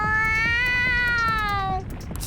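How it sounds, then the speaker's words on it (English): A single drawn-out cat meow from the Persona 5 Royal video game, a clear rising-then-falling tone lasting under two seconds, heard alone and up close. "He's a cat."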